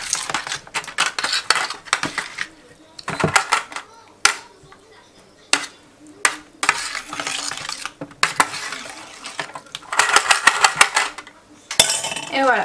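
A spoon stirs food in a pot for a roast pork recipe in a family kitchen, with repeated scraping and clinking bursts of metal against the pan, and a voice speaking between the strokes.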